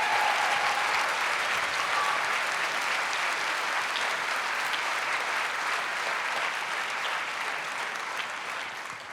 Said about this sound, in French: Eux aussi, ils méritent d'être applaudis chaleureusement.